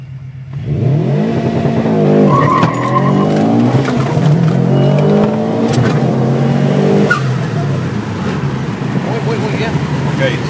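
A 2011 Perrin Subaru STI revs hard and its tires squeal in repeated sliding bursts during a traction test, loud and close, with a brief pause before the engine note resumes.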